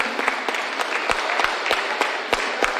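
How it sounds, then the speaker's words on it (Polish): Applause from an audience at a wedding band festival for a band, a dense, loud wash of clapping with some sharper individual claps standing out throughout. "Duże brawa za wspaniały występ."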